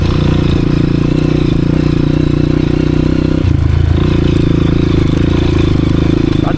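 A Honda CRF 230F dirt bike on a mountain trail, its engine droning loud and close at a steady pitch, with a brief dip and stumble partway through as it bogs before holding on again.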